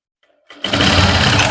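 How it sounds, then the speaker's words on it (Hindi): A sewing machine runs steadily, stitching the waistband of a pair of trousers, its motor whirring loud and continuous after a brief, nearly silent start. "एक सिलाई हम ऊपर की तरफ लगा लेंगे"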